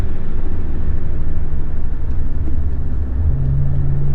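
A 2015 BMW 535xi accelerates under paddle-shifted gears, a steady loud cabin rumble of engine and road with a drop in pitch as a shift comes through near the end.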